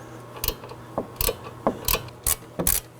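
A socket ratchet breaking loose a front sway bar link nut on a 2018-2024 Chevrolet Equinox, six or seven short ratcheting clicks in uneven bursts, close and clear with no voices.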